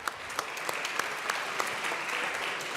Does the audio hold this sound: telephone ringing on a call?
no